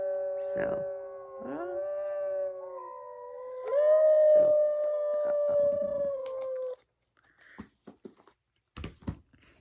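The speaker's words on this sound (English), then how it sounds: "she can listen to the wolves howling on there." Long, wavering howls rise and hold in layered tones, several voices overlapping up close, then fade into quiet with a few soft clicks and thumps.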